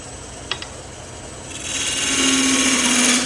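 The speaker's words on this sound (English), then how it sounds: "I'm going to do a peeling cut" A wood lathe spins a pepper mill blank while a parting tool makes a peeling cut on the spigot; a couple of sharp ticks early on, then a louder, steady scraping cut with a faint tonal whine from the spinning wood.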